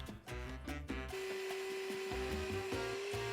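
A piece of wood is being sawn to length as a template for a timber gable frame, giving a close, steady rasping under a sustained tonal hum, with a few sharper strokes at the start.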